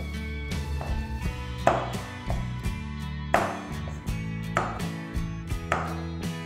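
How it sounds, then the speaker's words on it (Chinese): A knife chops rinsed Chinese black olives (lanjiao) on a cutting board, giving about a dozen crisp, close knocks at an uneven, unhurried pace, with no one talking. "洗好，把它稍微切一下"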